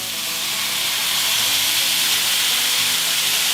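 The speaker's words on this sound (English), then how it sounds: "we're going to pour that around here just to get a little bit of steam going" Fajita sauce poured into a hot pan with steak and vegetables, producing a loud, continuous hiss and sizzle of steam that holds steady throughout.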